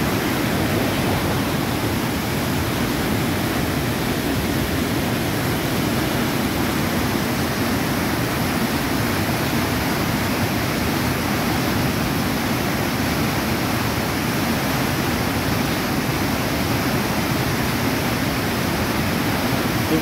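A waterfall on the Żabniczanka stream in Żabnica, in the Beskidy mountains, produces an unbroken, roaring wash of falling water, heard close and steady throughout with no voices.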